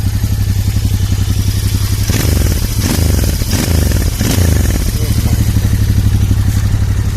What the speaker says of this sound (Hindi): This is a beautiful sound of this bike.